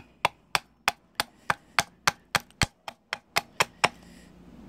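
Sharp, evenly spaced axe strikes into round wood, about a dozen blows, making a stop cut for an eating-spoon-sized blank; each chop is crisp and close, with no talking.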